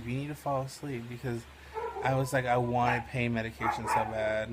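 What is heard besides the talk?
dog Shadow barking in the background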